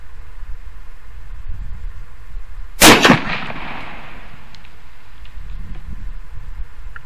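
A single loud gunshot from a CVA Scout 350 Legend rifle fired at a 50-yard target outdoors, a sharp crack followed by a short decaying echo, with quiet ambient noise before and after.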